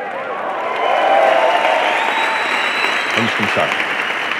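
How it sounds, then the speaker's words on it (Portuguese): A comedy show audience breaks into applause and some cheering that swells and then holds steady, while someone speaks briefly over the crowd near the end. "quando eles entrarem, um aplauso maior do mundo"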